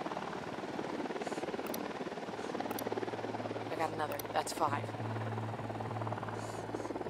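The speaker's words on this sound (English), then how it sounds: "We need that chopper." A helicopter's steady rotor drone runs beneath gunfire and shouted team chatter in the Ghost Recon video game, continuous and moderately loud throughout.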